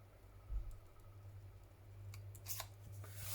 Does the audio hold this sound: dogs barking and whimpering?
no